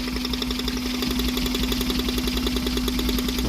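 Suzuki APV engine idling with a misfire, a steady low hum broken by an uneven, shaking pulse that keeps repeating close by with no one talking.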